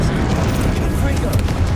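A Confringo explosive spell blast in Hogwarts Legacy, a dense, loud, sustained rumbling burst of broadband noise with crackling spikes, layered with other combat sound.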